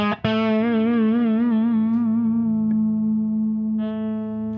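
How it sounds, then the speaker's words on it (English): Electric guitar played through the crunch amp setting in Propellerhead Reason 8 sounds one plucked note that sustains with pronounced vibrato, then a second note rings in near the end, with no talking. "and you can do it on crunch."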